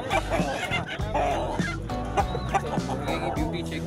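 A heavy-bodied desi rooster clucks repeatedly in short throaty bursts, fairly close, over a busy background with other fowl sounds at a poultry market in Sindh.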